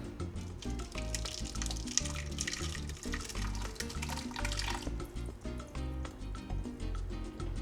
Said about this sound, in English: it's time to put our marinade on top